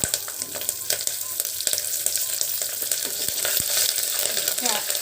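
Dried red chillies, curry leaves, coriander seeds, cumin, mustard seeds and fenugreek crackle and sizzle in hot oil for an Andhra-style okra tamarind curry, a steady close frying hiss with small pops and occasional stirring.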